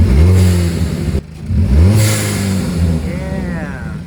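A Hyundai Kona N engine fitted with an AFE intake revs loudly and up close, climbing twice in quick succession before settling back toward idle, with a mechanical whir as it drops.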